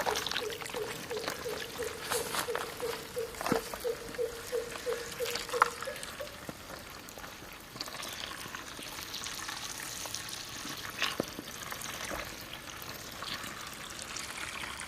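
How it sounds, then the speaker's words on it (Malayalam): Water is poured slowly and steadily into a lotus plant tub, a soft continuous trickle and splash with an early faint tonal hum, fairly quiet and without talking. "പതിയെ വെള്ളം ഒഴിച്ച് കൊടുക്കുകയാണ് നമ്മൾ."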